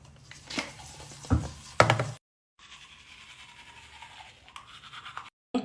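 Teeth being scrubbed hard with a toothbrush and a whitening serum, brisk close scraping strokes broken by a brief silence and then a steadier stretch of brushing.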